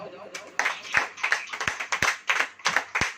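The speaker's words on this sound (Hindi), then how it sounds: "ताली बजाओ।" A church congregation claps in a rhythmic series of sharp, evenly spaced claps at moderate volume, with the group's voices mixed in underneath.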